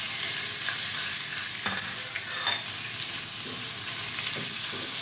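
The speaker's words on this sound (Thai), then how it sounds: "เอาหมูลงไปผัดก่อนค่ะ3ชั้นเนาะค่ะเนาะ" Pork belly stir-frying in a pan, with a steady close sizzle and spatula scrapes against the metal through the whole stretch, and no talking.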